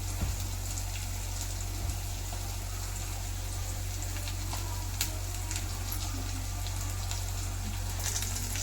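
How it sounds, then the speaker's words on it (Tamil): Onions sautéing in a pan for tomato thokku, a soft continuous sizzle and crackle with a low steady hum underneath, moderately quiet and without speech. "வெங்காயம் நல்லா வதங்கணும்"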